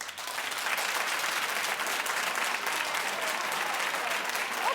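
Studio audience clapping on a talk show, a thick, even wash of many hands applauding continuously at a steady level.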